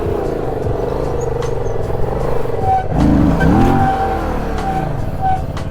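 Stunt motorcycle engine revving hard in second gear, a loud sustained engine roar that swells and climbs in pitch midway, heard up close.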